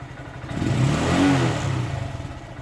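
A Honda Grom motorcycle with a modified air intake, its engine rising in a single rev from idle and falling back, close and fairly loud.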